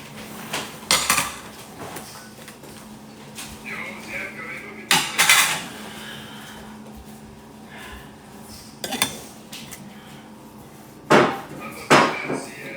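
Newly bought dishes and cutlery are handled, giving sharp clinks and clatters in several bursts, some louder knocks, with quiet stretches in between.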